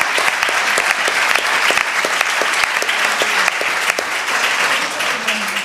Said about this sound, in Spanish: Yo creo que esta muchacha merece un aplauso.